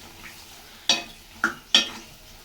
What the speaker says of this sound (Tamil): கலக்கி விட்டுக்கலாம்